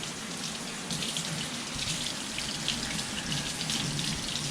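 Tap water runs steadily from a faucet over fresh cilantro being rinsed, a continuous near splashing hiss with no talk, for fried tacos.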